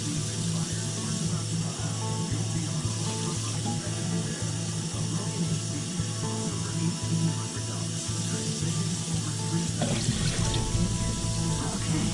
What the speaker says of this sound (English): I got to add some more water.